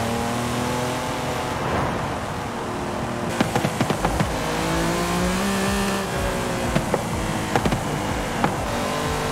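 A Lamborghini Countach LP5000 QV engine revs and shifts in Forza Horizon 5, with a series of sharp popping backfire crackles during the lift-offs.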